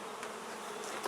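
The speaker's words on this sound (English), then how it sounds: "That one's actually a lot of bees on it still." Honey bees on a hive frame give a steady, close buzzing swarm hum that holds level for about a second, with no voices over it.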